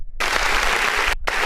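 Applause sound effect from a clap button that glitches, a dense burst of clapping that cuts out abruptly for a moment near the end, then snaps back in.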